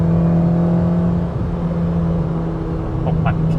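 A B18C-swapped 2000 Honda Civic Si drives with a steady engine drone and road rumble from inside the cabin, holding a constant loud hum with a slight rise near the end.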